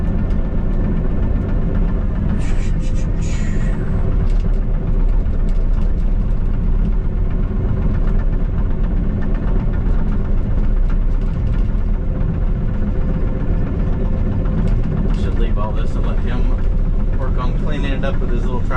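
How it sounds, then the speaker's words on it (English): A small farm tractor's engine runs steadily nearby at a constant drone, with a few brief higher clanks and squeaks over it and people talking now and then. "Cleaning it up with his little tractor."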